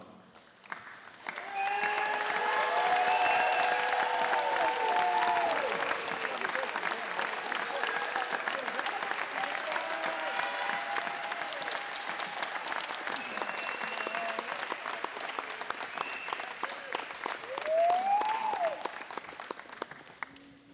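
An audience at a volleyball alumni day applauds steadily for most of the stretch at a moderate distance, and a few faint voices and cheers rise through the clapping.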